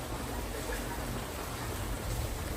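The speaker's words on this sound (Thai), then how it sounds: "ฝนตกนะคะตอนนี้" Rain falls steadily outdoors at a Khon Kaen cafe, a constant broadband hiss with no breaks, moderately loud and close.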